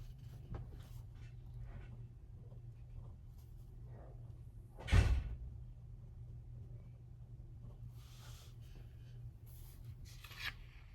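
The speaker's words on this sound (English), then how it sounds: "somebody slamming doors" A door slams once, sharp and fairly loud, in a room against a quiet low rumble, with a few faint knocks before and after.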